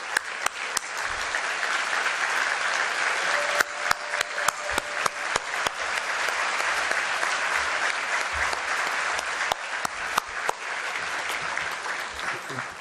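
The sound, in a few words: audience applause for public officials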